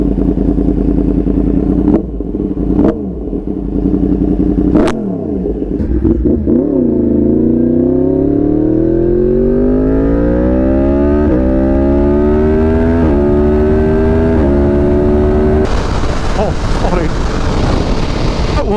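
A Yamaha MT-10 motorcycle engine revs up loud and close after a few sharp clicks, climbing steadily through gears in a long rising whine with brief dips at each shift.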